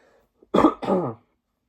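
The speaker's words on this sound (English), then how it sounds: "I've had that cough for like over a week now." A single person with a week-long cough coughs close by, two quick, rough bursts in a row, then silence. No speech.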